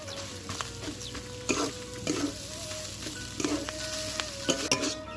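Bhola fish filling and grated potato are fried and stirred in a pan, giving a continuous soft sizzle under repeated scraping spoon strokes and light clinks, close and steady.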